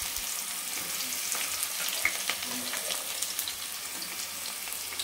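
Sliced onions, cumin, mustard seeds and curry leaves frying in hot oil for a brinjal dish, a close, continuous crackling sizzle with occasional stirring, no talk.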